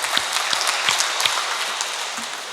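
An audience at a general meeting and presidential inauguration claps steadily for a generous donor, a dense, loud wash of applause that fades slightly toward the end.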